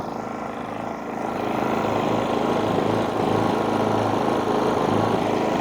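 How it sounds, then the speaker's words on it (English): Air compressor runs off a GENMAX GM3500Xi gas inverter generator, a steady loud motorized drone that rises slightly in level after a second and holds constant, close by. "let's connect the air compressor."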